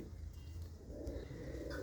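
Pigeons kept for sale near Nakodar town coo softly in low, murmuring tones, faint and steady with no talking.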